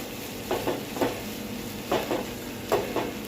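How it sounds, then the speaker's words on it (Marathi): Moong bhaji is sautéed in a pan, with a low sizzle under rhythmic scraping stirs that come in short pairs of strokes, close and fairly loud, with no voices. "छान असं परतून घेऊया 1 मिनिट"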